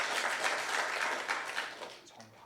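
A church congregation at a women's mission dedication service claps together. The dense applause is steady and fairly loud, then thins out near the end.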